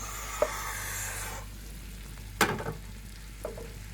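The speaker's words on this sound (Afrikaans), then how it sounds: "So braai in die knoffel met die botter." Crayfish sizzles in a pan with garlic and butter, a hissing fry fading after a second, with a few close clatters of stirring or utensils against the pan.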